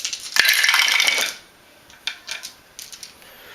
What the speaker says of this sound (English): We'll take our 10 action dice and we'll roll these.